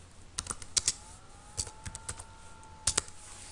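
Typing on a computer keyboard, with scattered bursts of crisp key clicks in short uneven clusters, close and fairly quiet over a faint steady hum.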